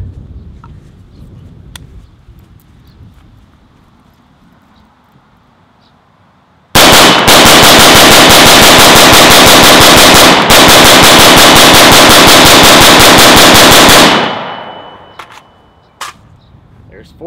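Sig Sauer MCX rifle emptying a 40-round magazine in one long, very loud, rapid string of shots lasting about seven seconds, preceded and followed by quiet outdoor background.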